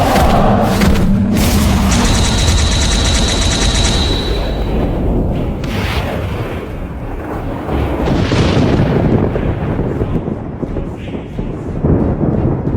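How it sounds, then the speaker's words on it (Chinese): Loud thunder booms and rumbles through an animated fantasy battle between celestial gods, with heavy cracking impacts at the start followed by continuous deep rolling rumble that ebbs and surges. "雷声轰鸣而起，好似开天辟地一般"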